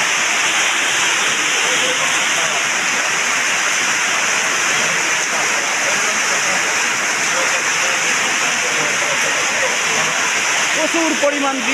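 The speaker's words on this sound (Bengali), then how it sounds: "প্রচুর বৃষ্টি হচ্ছে, আপনারা লক্ষ্য করুন এবং দেখুন" Heavy downpour rain in Mirpur, Kushtia pours down in a dense, loud, steady hiss and wash of drops, unbroken throughout.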